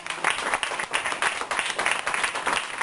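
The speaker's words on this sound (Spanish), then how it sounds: "Denle un aplauso al Señor." Applause from a church congregation during a Sunday sermon, steady dense clapping filling the whole stretch at moderate loudness with no voices over it.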